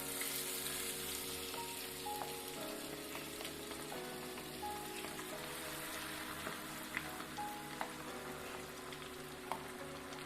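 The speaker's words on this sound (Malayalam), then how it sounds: "ഇങ്ങനെയെല്ലാം ഓരോരോ പീസായിട്ടും നമുക്ക് ഫ്രൈ ചെയ്തെടുക്കാം." Chicken pieces frying in oil for a home-made chicken fry, a steady close sizzle with crackling pops and scattered sharp spatters, no voices.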